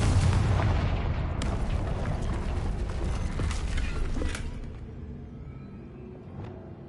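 A Confringo blasting spell explodes in Hogwarts Legacy, a loud booming blast with rumbling debris that rolls on for several seconds before fading into a quieter tail.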